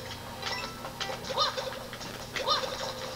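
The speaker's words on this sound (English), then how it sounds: "But don't bubble the birds, they're technically enemies." Bird enemies cooing in Super Mario Bros. Wonder, two soft, rounded coos about a second apart over a low game background, faint and with no talking.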